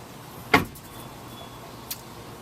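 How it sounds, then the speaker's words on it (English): An AMP power running board step on a vehicle retracts with one short, sharp clunk, then a fainter click a little over a second later, against a quiet background. "Time delay, step goes back up."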